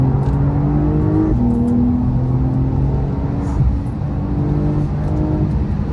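A 450 hp Porsche 911 Carrera 4S pulls hard on the Nürburgring, its engine a loud, steady, close drone that climbs and holds with a slight dip partway through.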